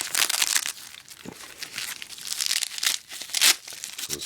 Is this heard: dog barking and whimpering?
no